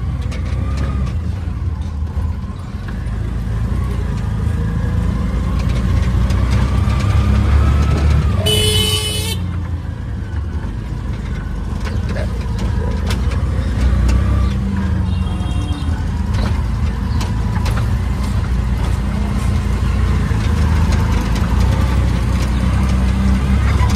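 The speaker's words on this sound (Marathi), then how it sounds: "आता अशी रिक्षा पकडली" An auto rickshaw's engine drones continuously while it rides along a road near Mumbra station, with traffic rumble throughout and a short horn toot partway through.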